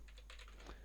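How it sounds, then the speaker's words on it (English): Several quick keystrokes on a computer keyboard, faint and close, a brief burst of soft clicks tapped out in under a second. "As I was typing in curate"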